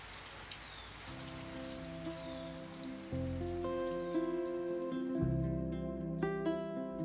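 Heavy rain shower drumming steadily on surfaces, a dense continuous patter that swells louder partway through, with no voices.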